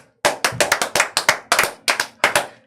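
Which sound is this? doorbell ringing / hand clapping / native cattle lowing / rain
hand clapping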